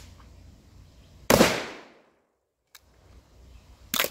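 A Sulun Auslof tube-fed beak-action shotgun fires two loud, sharp reports at an outdoor range, the first with a long decaying boom, a faint click between, and the second shot cut off at the end.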